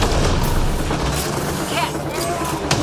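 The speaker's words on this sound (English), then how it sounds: "Grenade in!" Grenade explosion in the Mass Effect Andromeda video game, a loud sustained boom and rumble mixed with combat noise and game dialogue throughout.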